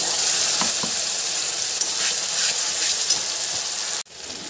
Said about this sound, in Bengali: এবার এরকমভাবে পেঁয়াজটা ভেজে নিতে হবে